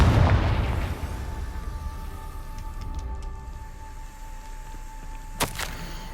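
A Confringo fire-spell blast from the video game Hogwarts Legacy lands as a heavy low boom at the start, then rumbles off while faint tonal game hum carries on, with a short sharp crack near the end.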